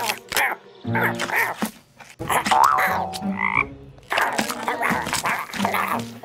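A cartoon frog croaks repeatedly in a children's cowboy video game, mixed with bright voice-like game sounds and short musical tones at close, moderate loudness.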